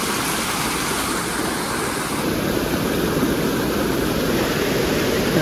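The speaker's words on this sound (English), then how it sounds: "We've reached the waterfall" Lingya Ghat waterfall in thick fog, a steady loud broadband roar of falling water filling the whole scene without pause, no voices.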